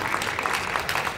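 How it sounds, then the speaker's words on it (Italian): An audience applauds, with a continuous, even patter of many hands clapping throughout at moderate loudness and no clear voice on top. "Facciamo un applauso"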